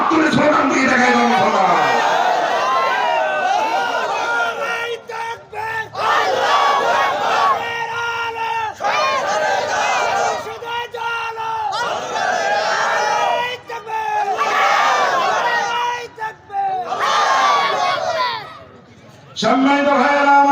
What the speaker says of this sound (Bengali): দুই হাত তুলে স্লোগান দিয়ে দেখাই দাও।